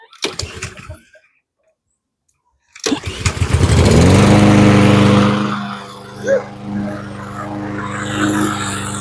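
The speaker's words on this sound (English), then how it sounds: "Come on, lawnmower." A lawn mower is pull-started after a few rattling tugs and a brief silence, then its small engine catches and runs loudly and steadily, dipping and surging slightly as it settles.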